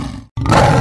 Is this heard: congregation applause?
no